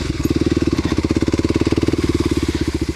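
Kawasaki KLX250sf motorcycle engine running steadily up close, a fast, even, throbbing thump with a rough mechanical rattle layered on top, loud and constant throughout without pause.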